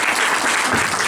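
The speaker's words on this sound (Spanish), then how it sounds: "Vamos a aplaudir a Beatriz." An audience at a Spanish-language book presentation applauds: dense, steady clapping from many hands, fairly loud and continuous throughout, with no voices standing out.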